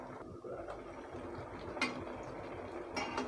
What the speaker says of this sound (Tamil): இன்னும் ஒரு 2 minutes போல் நம்ம லிட் போட்டு மூடி வச்சிடலாம்